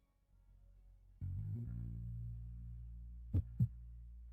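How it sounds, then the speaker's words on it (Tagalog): A fast heartbeat sound effect thuds low and steady under a droning hum, capped by two sharp, closely spaced beats near the end. "Bumibilis ang tibok ng puso ko?"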